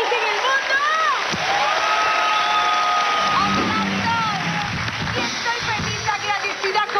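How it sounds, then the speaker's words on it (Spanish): A live studio audience applauds and cheers steadily for the full stretch, a dense wash of clapping with whoops and raised voices riding over it. "¡Aplausos!"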